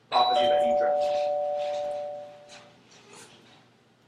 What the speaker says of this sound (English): Those on the line, that's my doorbell.